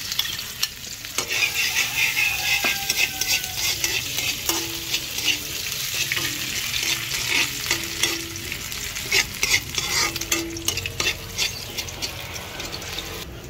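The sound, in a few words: ginger frying in cooking oil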